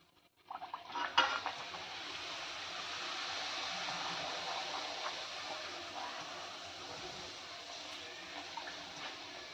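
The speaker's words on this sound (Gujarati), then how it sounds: "તો આ રીતે આપણે બધી પૂરી તળી લઈશું" Puris made from fasting flour fry in hot oil, a broad steady sizzle that starts abruptly after a clatter and continues loudly, with occasional soft utensil taps.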